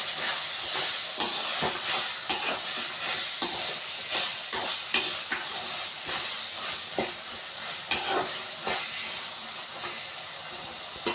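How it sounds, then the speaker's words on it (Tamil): Tomatoes sautéing in a pan with coriander and curry leaves, a steady sizzling hiss broken by regular scraping stirs of a spoon, close and continuous with no talk. "நல்லா தக்காளி வதக்கிக்கோங்க"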